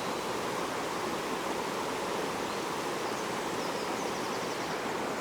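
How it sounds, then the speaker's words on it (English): River water rushes loudly beneath a bridge in a dense, unbroken roar that stays close and constant, with no voices over it. "the water is rushing down"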